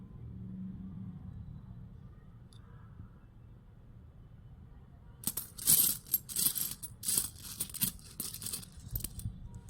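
Nepali and Indian coins clink and rattle as they are handled and sifted, with a run of bright, close metallic jingles after a quieter start over low background rumble.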